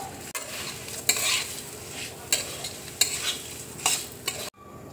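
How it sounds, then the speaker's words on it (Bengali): Flattened rice (chire) frying in hot oil with dried red chilli, tossed with a spatula in repeated sharp scraping strokes over a continuous crackling sizzle, ending abruptly; no talk. "এবার দেখো চিড়েটা আমি তেলের মধ্যে দিয়ে দিচ্ছি।"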